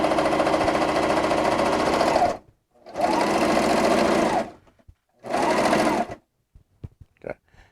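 A cover stitch machine sewing a double needle hem along the folded bottom edge of a shirt, running in three loud, steady bursts of rapid mechanical stitching separated by brief pauses, with a few small clicks at the end.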